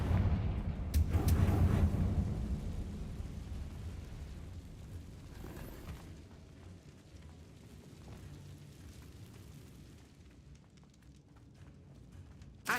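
A Confringo explosion spell from the Hogwarts Legacy video game bursts in a heavy, low boom that swells early and then decays into a long rumbling tail, with a small pop at the very end.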